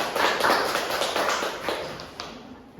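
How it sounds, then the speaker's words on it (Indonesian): Students in a classroom clap together, a dense burst of hand claps that is loud at first and then thins out into a few scattered claps. "Oke, tepuk tangan buat kita semua"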